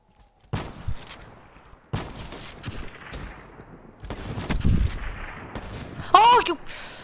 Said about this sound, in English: Oh, the shotgun. I can't remember what it's called.